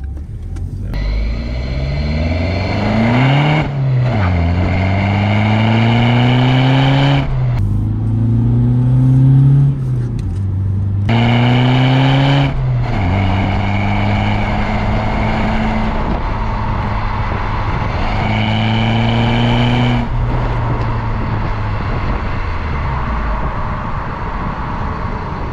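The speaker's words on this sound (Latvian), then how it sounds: "Paklausties, kā skan downpipes." A BMW E81 car engine revs repeatedly through a loud exhaust with aftermarket downpipes, pitch climbing and dropping in several bursts, close and throaty, with no talking.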